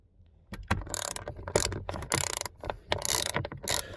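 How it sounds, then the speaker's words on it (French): A ratcheting tool loosens tight bolts on a BMW F10 car seat, giving bursts of close, sharp clicking and metallic rattling separated by short pauses. "Allez, on va dévisser ces deux choses."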